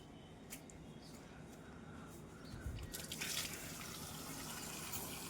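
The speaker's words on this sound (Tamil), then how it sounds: "அதனால தான் தண்ணி கொஞ்சம் இறக்கி விடலான்னு வந்திருக்கேன்." Water drains from a large outdoor aquarium pond tank with a faint, steady gush and trickle that swells a little midway, heard quietly with no talking.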